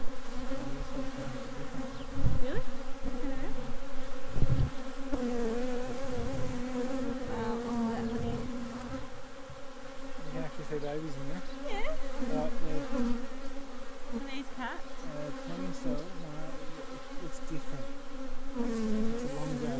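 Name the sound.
honey bees buzzing at a bee hive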